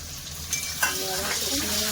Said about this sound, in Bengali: আলু আর টমেটো ভাজা ভাজা হয়ে এসছে